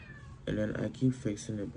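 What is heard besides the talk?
cat meowing after being put outside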